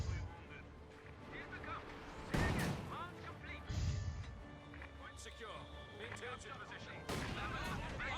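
Artillery fire in a Company of Heroes 2 battle between infantry units booms in several heavy impacts among ongoing battle noise. A voice talks steadily over the top.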